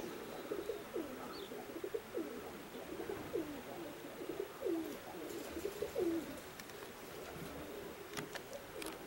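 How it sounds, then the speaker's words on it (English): Roller pigeons coo softly in a repeated, rhythmic series at a high mountain roller competition, the calls faint and somewhat distant against an open-air background. "Birds are really active."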